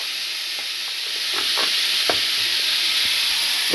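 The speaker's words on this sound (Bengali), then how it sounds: "দিয়ে ভালোভাবে কিন্তু এখানে ভাজা শুরু করতে হবে হলুদ গুঁড়ো" Vegetables with taro, potato, prawn and jackfruit seeds fry in a pan with salt and turmeric, a steady hiss of sizzling oil with repeated scraping stirs, up close and without speech.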